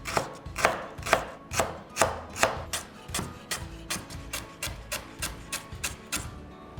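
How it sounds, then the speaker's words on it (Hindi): A knife chops lemongrass on a board for homemade Thai red curry paste, giving a steady run of crisp, close strokes at an even rhythm. "यहां से ये सॉफ्ट होना शुरू हो गया है, आराम से कट रहा है"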